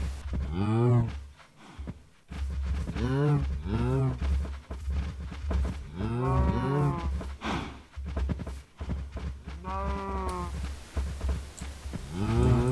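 Cows low repeatedly in a video game, several drawn-out moos in succession over a steady low game hum, fairly loud and close.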